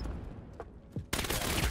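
Gunfire in the VR shooter Vail VR: a couple of faint muffled shots, then a sudden loud burst of rapid fire close by.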